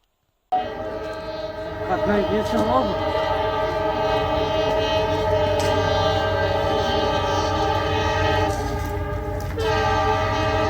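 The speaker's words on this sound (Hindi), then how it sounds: "अपने गांव से रेलगाड़ी को जाते हुए देखकर रोमांचित हुए" Passenger train running for the first time on the new Vaishali–Saraiya railway line, its horn sounding in sustained blasts near and loud, with wagons rumbling steadily beneath and a brief warbling tone early on.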